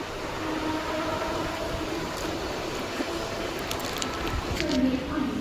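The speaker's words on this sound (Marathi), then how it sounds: "ट्रेनमध्ये चढलोय मी" Steady rumbling and rattling inside a passenger carriage on the Konkan Railway, a continuous low roar of the moving train with faint muffled voices in the background.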